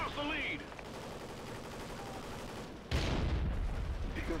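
Rapid automatic gunfire rattles in the video game Call of Duty: Ghosts, with dense overlapping shots and a louder burst of fire near the end, heard under a faint voice.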